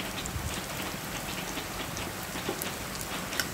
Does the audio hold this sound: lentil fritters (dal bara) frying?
yes